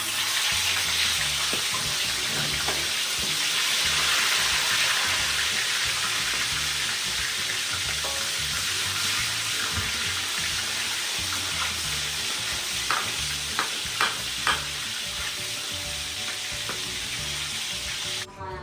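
Tilapia frying in hot oil, a loud, steady, crackling sizzle that holds throughout, with a few small clinks toward the end; no one speaks.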